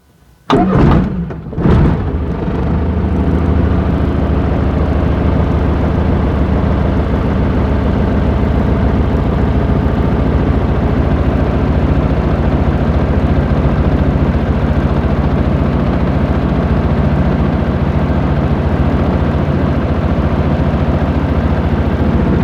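A Jabiru light aircraft's Rotec 2200 radial engine coughs and fires after a couple of sharp starter bursts, then settles into a steady, loud, rumbling idle that runs on unchanged.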